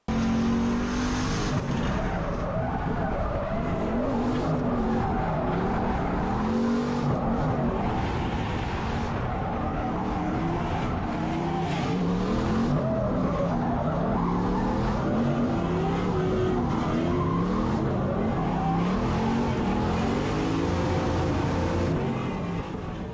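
Recorded from inside a Formula Drift drift car, a loud engine revs and bogs continuously, with tires squealing and skidding throughout the run and no one speaking.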